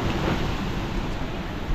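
Strong wind at a mountain campsite on Mount Balagbag, San Isidro, Rizal, roaring steadily as dense, broadband rumble and buffeting against the microphone for the whole stretch, loud and continuous with no speech.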